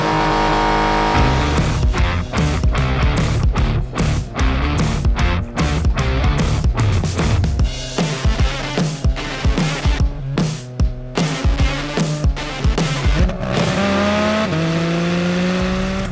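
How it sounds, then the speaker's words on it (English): A 2022 Porsche 718 Cayman GT4 RS launches under launch control, its engine howling loud and close through a rapid run of sharp upshifts, each rising pitch climb broken by a brief gear-change dip. "'22 Porsche 718 Cayman GT4 RS with launch control. Jeez, that is quick and sounds amazing."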